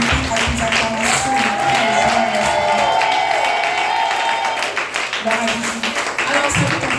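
A church congregation at a wedding service applauds and cheers, sustained clapping and shouts with a held sung or musical tone in the middle, loud and close throughout.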